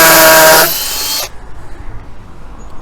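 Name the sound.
power drill boring a hole into brick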